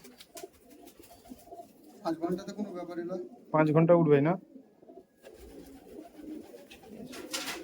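Giribaj pigeons coo nearby in short bursts while someone talks over them.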